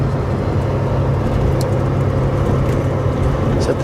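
A 2004 International 670 truck cruising toward 100 km/h, a steady low engine drone with road and cab noise, loud and unbroken throughout.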